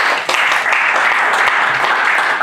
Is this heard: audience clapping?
yes